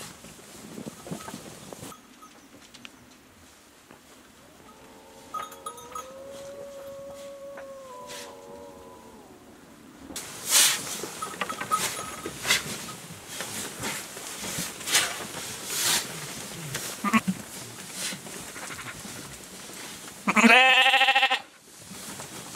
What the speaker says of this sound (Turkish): Şimdi kuzularımız burada